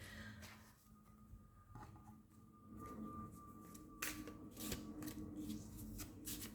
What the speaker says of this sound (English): Meanwhile, I'm doing the shuffling.